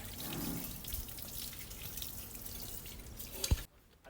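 Water splashes and trickles steadily as scale sediment is rinsed out of a geyser water heater tank, then a sharp knock sounds and the flow cuts off almost to silence.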